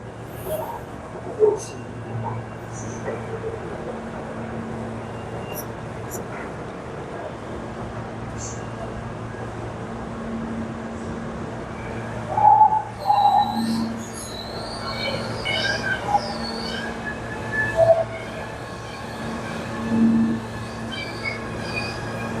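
A subway train rides along with a steady low rumble and hum, broken by occasional wheel squeals and clunks, heard from inside the car.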